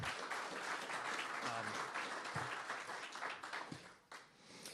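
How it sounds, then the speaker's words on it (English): An outdoor ribbon-cutting crowd for a development opening claps in a moderate round, with some murmured voices mixed in and the applause thinning toward the end. "So let's give Yvette a round of applause, even though she's not here."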